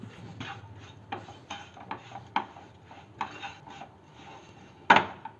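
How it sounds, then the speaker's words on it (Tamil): Bournvita stirred into rice flour with ghee in a bowl: gentle rubbing and scraping strokes with a few light knocks, in an uneven rhythm, close and fairly quiet, with one louder clack near the end. "சேர்த்துட்டு இதையும் நல்லா கலந்து விட்டுக்கலாம்."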